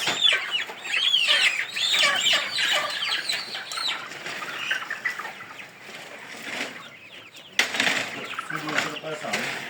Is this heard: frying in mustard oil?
no